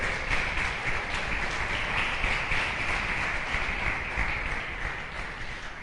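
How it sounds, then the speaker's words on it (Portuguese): A church congregation at an evangelical service applauds continuously, a dense steady wash of many hands clapping with no talk over it, easing off slightly at the end. "Aplaudindo a Jesus"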